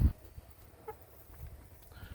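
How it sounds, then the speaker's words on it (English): Backyard hens in a coop cluck softly and sporadically while eating supper scraps, with a few short, close-up bursts of clucking over quiet background noise. "Just hanging out in the chicken coop."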